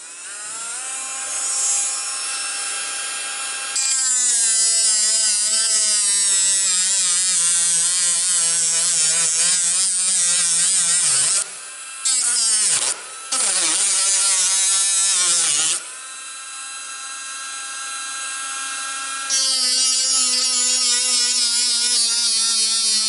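A Dremel rotary tool cuts through a piece of model railway track with a loud, steady high-pitched whine, its pitch wavering as it bites into the rail, with two short dips where the cutting stops before it resumes.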